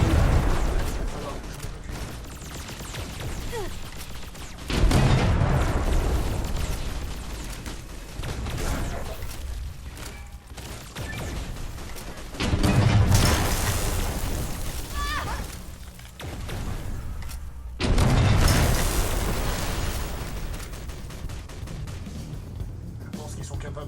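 Cannon fire in the Fallout: The Frontier video game, heavy booms recurring roughly every five seconds amid continuous gunfire and battle noise, loud and dense throughout.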